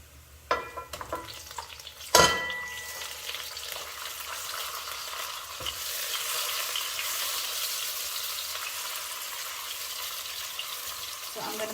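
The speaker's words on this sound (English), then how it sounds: "As you can see, the onion has almost browned, and I'm going to add my tomato to that." Tomato dropped onto browning onion frying in a pot, a couple of sharp clatters and a splash-like thump, then a steady hissing sizzle that builds and holds, close and fairly loud, with no talking.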